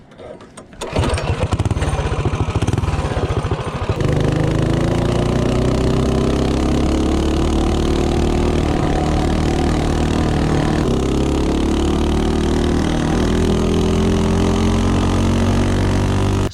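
A Predator 224 minibike engine fitted with a NIBBI carburetor starts with a few rough pulses, then runs steadily at loud, close revs, its buzzing drone rising in pitch and holding high for a long stretch.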